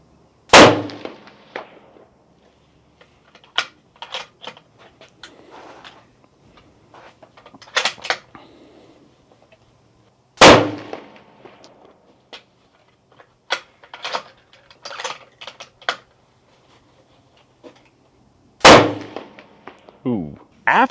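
Three loud rifle shots fired at a target ring out roughly eight seconds apart, separated by clicks and clatter of bolt or gear handling, with quiet gaps between.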